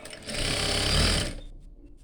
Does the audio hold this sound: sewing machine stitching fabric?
yes